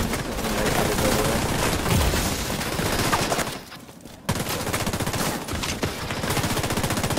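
Rapid automatic gunfire in a shooter video game, dense bursts from multiple directions crackling almost continuously, with a brief lull midway before the shooting resumes loudly.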